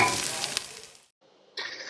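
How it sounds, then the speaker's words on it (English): Onions and celery fry in rendered fat for New England clam chowder, a loud close sizzle that cuts out briefly, then returns as a thinner, brighter hiss. "I'm going to go ahead and start adding my celery."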